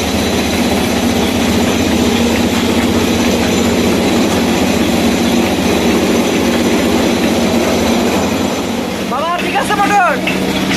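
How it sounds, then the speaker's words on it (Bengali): An old ship's three-phase motor, converted to run on single-phase power to drive a rice huller, hums steadily and loudly with a constant mechanical drone. Brief voices and clatter come near the end. "3 ফেজ মোটরকে সিঙ্গেল ফেজ করে দিয়েছি। এটি দিয়ে 2 নাম্বার হলার চালাবে।"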